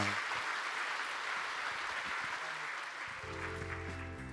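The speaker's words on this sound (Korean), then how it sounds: "이 시간 출산 장려금 드릴 때 박수로 축하해 주시기 바랍니다" A church congregation applauds to congratulate recipients of childbirth grants, a soft, even wash of clapping that holds steady, with low organ or keyboard tones entering toward the end.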